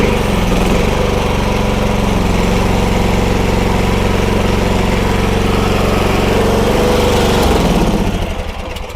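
Huayee HY680C mini skid steer with a Kubota diesel engine running steadily while lifting a load, a loud, continuous droning rumble that holds throughout and eases off slightly near the end.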